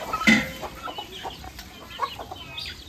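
Chickens cluck softly in short bursts nearby as they eat spilled rice grains, a busy scattered chatter over a quiet background.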